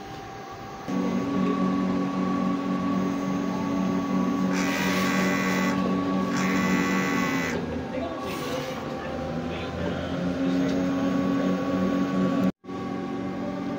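An inkjet printer starts a nozzle check with a click, then hums and whirs steadily, with periodic shuttling bursts of mechanical noise, stopping abruptly near the end.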